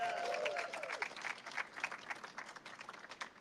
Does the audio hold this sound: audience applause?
yes